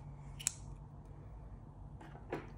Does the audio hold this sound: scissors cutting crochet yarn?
yes